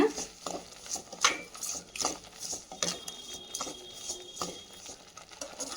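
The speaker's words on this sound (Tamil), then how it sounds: "மல்லித்தூள், சால்ட்டு, இந்த எல்லாத்தையும் நல்லா மிக்ஸ் பண்ணி விடுங்க" Spices, coriander powder and salt are mixed for a fish kulambu, giving sparse scraping and clinking of a spoon against a vessel, soft and irregular with brief louder taps.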